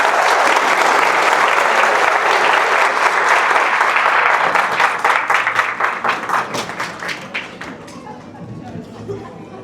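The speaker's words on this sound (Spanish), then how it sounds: "Denle un aplauso al Señor y ponte en pie." A church congregation breaks into loud, sustained clapping that grows into distinct rhythmic claps, then thins out and fades toward the end, with some crowd murmur underneath.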